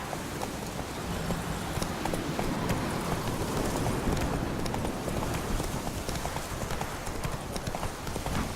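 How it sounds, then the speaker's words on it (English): Horse hooves clip-clopping in a steady, continuous rhythm in the video game The Witcher 3, fairly close and loud, with no voices over it. "Time to water the horses."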